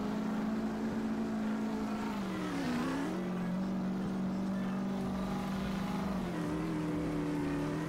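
Monster truck engines rev continuously in a racing video game, a loud, sustained engine drone that dips and rises in pitch as the trucks shift speed, with no talk over it.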